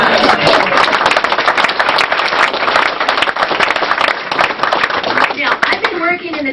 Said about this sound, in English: here's where we need applause